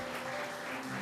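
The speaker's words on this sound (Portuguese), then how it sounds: "Você pode aplaudir o Senhor aí no seu lugar?" A church congregation claps together in steady, diffuse applause, soft and somewhat distant, with a faint hum underneath.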